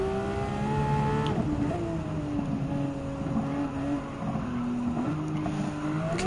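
A Type 992 Porsche 911 racing alone on a track in Gran Turismo 7, its engine holding steady sustained notes that drop and climb with gear changes and corner braking, loud and continuous with no talk.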